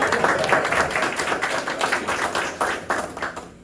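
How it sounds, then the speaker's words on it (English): Audience at a Clean & Safe City town hall in Clinton Square clapping, a brisk round of many hands that stays steady before tapering off at the end. "you're allowed to clap. Go ahead."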